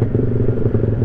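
A motorcycle engine drones loudly and close while riding on a windy road, a low pulsing hum with some rattling, no talking.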